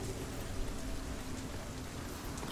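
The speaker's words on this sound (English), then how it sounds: "It's raining." Rain in the video game Hellblade: Senua's Sacrifice, a steady, soft hiss of falling rain and pattering drops, faint and even throughout with no talk.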